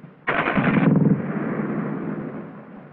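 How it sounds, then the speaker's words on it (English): German MG42 machine gun fires one very fast burst at its high rate, a loud, close ripping roar lasting under a second, then a long rumbling echo fading out. "The high cyclical rate of the German 42 was so unnerving to American soldiers at the time"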